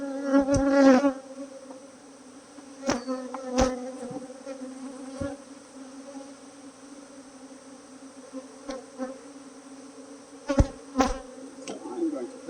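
Honey bees buzzing around an open hive while the colony is moved into a lower box, a continuous close hum with rising and falling swells and scattered sharp knocks and taps throughout.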